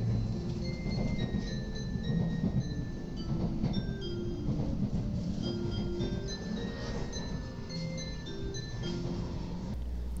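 A Shinkansen train on the Tokaido line near Yurakucho, Tokyo, runs steadily with a continuous low rumble, while a chiming onboard melody of bright tones plays over it throughout.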